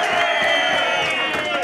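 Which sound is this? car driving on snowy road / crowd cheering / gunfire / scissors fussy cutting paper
crowd cheering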